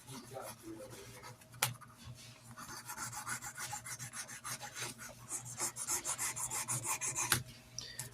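A knife handle being hand-sanded with fine 1000-grit sandpaper, giving soft, rhythmic rasping strokes that grow quicker and more regular, with a couple of sharp knocks, close and fairly quiet.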